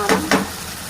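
A spoon stirring spices, salt and tomato into a bottle gourd paneer curry in a frying pan, two quick scraping sweeps over a soft sizzle, close and clear without talk.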